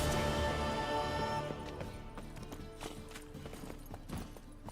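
Hoofbeats from Roach, Geralt's horse in The Witcher 3, clop in a quick galloping rhythm under a steady game soundscape, loud at first and then settling a little lower.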